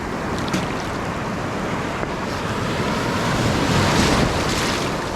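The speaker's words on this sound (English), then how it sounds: "I'm just gonna watch the waves come in" Ocean waves roll in on a beach of a deserted island in Sri Lanka, a loud, continuous surf wash with strong wind buffeting the microphone, building slightly toward the end.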